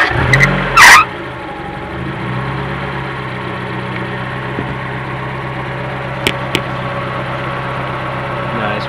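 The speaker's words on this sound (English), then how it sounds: "Okay, start the car up." A Mazda Miata engine cranks and catches with a loud burst, then settles into a steady idle with a couple of small blips, close by.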